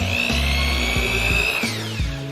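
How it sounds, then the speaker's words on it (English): A power drill whirs steadily, its pitch dipping and rising as it bites into the wood of a kitchen cabinet, close and loud for a couple of seconds. "Drill down a little bit"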